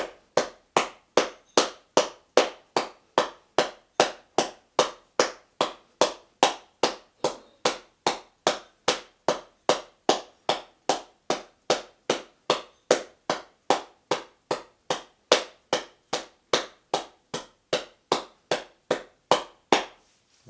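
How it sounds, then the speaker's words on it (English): A group clapping hands and stomping feet together in unison during a mindful boot camp session, a long run of sharp, evenly spaced beats at a steady rhythm, about two per second, with no talking. "clapping with your feet and the hand at the same time"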